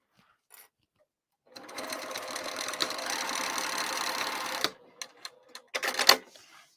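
A sewing machine stitches a half-inch seam on a bowler bag, running in a steady close mechanical whir for about three seconds, followed by a few short bursts and clicks as it stops and starts.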